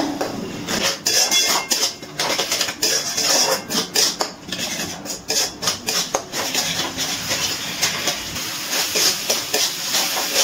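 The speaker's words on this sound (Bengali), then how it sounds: "এবারে ভালো করে আরেকটু কষিয়ে নিচ্ছি মশলাটা" Onion-tomato masala with salt, turmeric and Kashmiri chilli powder sautéed in a pan, loud repeated spatula scrapes and clatter over a steady sizzle, close by, with no talking.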